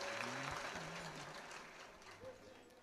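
Audience applause at a Marathi kirtan gathering, a faint, steady wash of many hands clapping together, heard from a distance for a few seconds with no voices over it.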